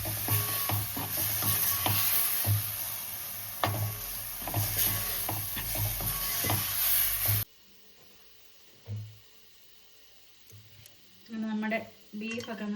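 Beef sizzles and fries in a pan while being stirred, a busy crackling hiss with scraping strokes for several seconds that then cuts off abruptly, leaving quiet room sound with someone speaking briefly.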